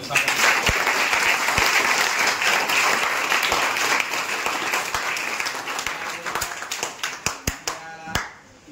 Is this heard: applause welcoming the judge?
yes